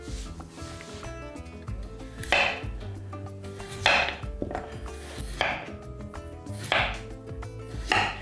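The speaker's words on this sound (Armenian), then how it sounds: "կարտոֆիլը կաթսայի մեջ շարելու համար հարմար է իհարկե կտրատել տափողակների" Potatoes being chopped into slices on a board, a series of crisp knife strikes spaced about a second or more apart, close and clear over a faint background with no talking.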